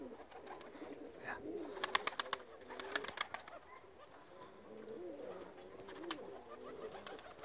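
Pigeons coo softly nearby in a loft setting, low murmuring calls repeated through the clip, mixed with brief clattering taps and a few wing flaps.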